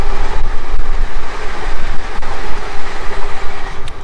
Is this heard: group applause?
no